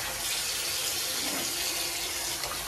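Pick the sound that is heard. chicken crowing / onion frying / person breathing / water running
water running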